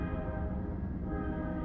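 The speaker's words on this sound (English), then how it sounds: "there's a train going off right now" A train passing with its horn sounding: a steady, dense, loud drone of rolling cars and a sustained horn tone throughout, continuous with no pauses or speech.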